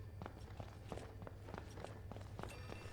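Running footsteps in the horror video game Outlast 2, a quick, steady series of soft thuds over a low, constant ambient drone.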